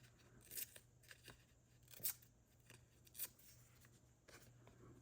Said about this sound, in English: I like that, but I want to tear all the edges.